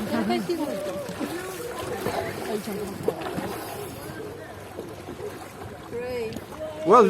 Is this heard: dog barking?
no